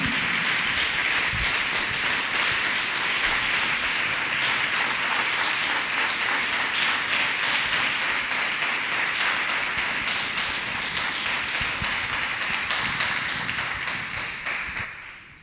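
A church congregation clapping for Jesus in a dense, steady roar of many hands that holds for about fifteen seconds before tapering at the end, with no voices over it.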